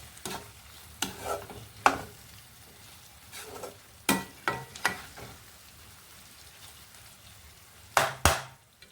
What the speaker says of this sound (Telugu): కొంచెం మగ్గాక పాలకూర వేస్తానండి.